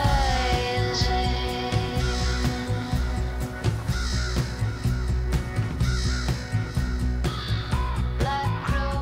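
Black crows cawing repeatedly, harsh rasping calls arriving in irregular bursts, some close and loud, others overlapping, over a constant low rumble of background noise.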